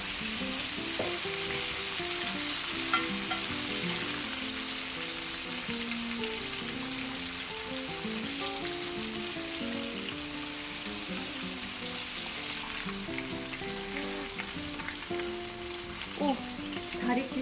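Steady, dense sizzling and crackling of batter-coated chicken deep frying in hot oil, continuous and close, with some faint clinks and tonal background sounds throughout.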